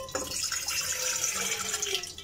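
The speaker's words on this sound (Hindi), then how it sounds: "इसमें हाफ ग्लास पानी का डाल दें" Half a glass of water poured into a saucepan while making wood apple murabba, a short steady splash and trickle running throughout.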